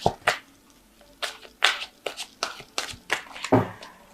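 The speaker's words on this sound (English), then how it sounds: "So I'm just going to draw some cards from the Angel Tarot" Cards are drawn one by one from an Angel Tarot deck, giving about a dozen crisp, close slaps and rustles at an uneven pace.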